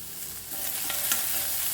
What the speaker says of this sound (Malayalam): ഉള്ളി, ചെറിയുള്ളി, ഇഞ്ചിയൊക്കെ എടുക്കാവുന്നതാണ്. ഇത് വഴറ്റിയെടുക്കാം.